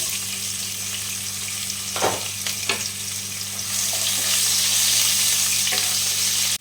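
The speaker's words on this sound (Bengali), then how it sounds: "এটা একটু লাল করে ভেজে নেব পেঁয়াজটা" Chopped small onion fries in hot oil with cumin seeds and slit green chillies, a loud, steady sizzle close by, broken by a couple of brief stirring scrapes and swelling slightly louder toward the end.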